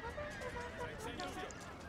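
Horses neighing and whinnying during a battle against rebel forces in a strategy video game, with continuous talking over the calls.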